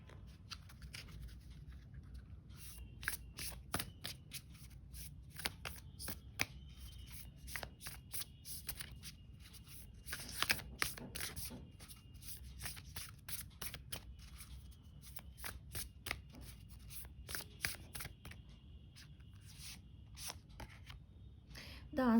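Oracle cards shuffled and drawn by hand during a tarot-style reading: a steady run of crisp riffling flicks and slaps, close and fairly quiet, with brief pauses between bursts and no talk.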